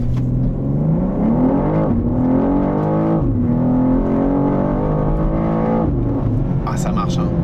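BMW M2 G87 launched from a standstill, its engine revving hard and climbing steadily through the gears with a loud, continuous near roar; a voice talks over it.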